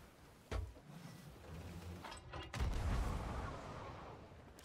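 In Sea of Thieves, a player fires themself out of a ship's cannon: a sharp booming shot, then mechanical creaks and rumbling, and a second heavier blast followed by a rushing, whooshing tail.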